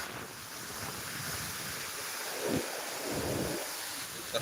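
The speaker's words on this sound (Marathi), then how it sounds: "परंतु हवा सुरुवातीलाच असते" Wind blowing at the onset of the monsoon rains, a steady broadband rush with gusty swells buffeting the microphone, continuous and fairly loud outdoors with no voices.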